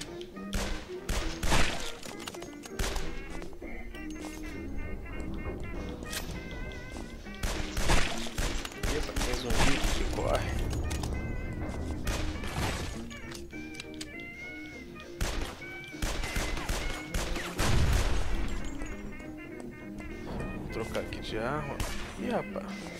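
Gunfire from zombies in the video game Guns, Gore & Cannoli, with repeated sharp bursts and thuds scattered through a busy mix of 1920s-style game music and effects, while a voice talks over it.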